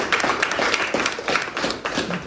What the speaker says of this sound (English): So a round of applause is done.